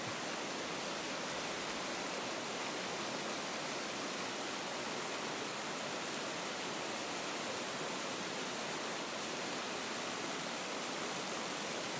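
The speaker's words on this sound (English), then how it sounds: "That's just a waterfall coming out of a hole." A natural waterfall pouring out of a hole in a rock face along a backcountry ridge trail, a steady broadband rush of falling water that stays loud and unbroken throughout, with no voices.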